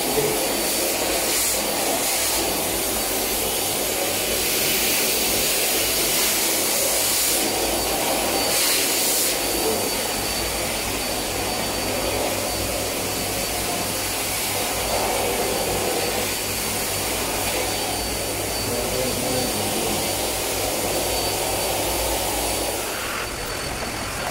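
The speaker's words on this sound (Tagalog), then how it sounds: "Ito yung handy vacuum." A Midea handy vacuum cleaner runs continuously at close range, a loud steady whooshing whine with a low hum that varies slightly in pitch as it is moved, with no talking.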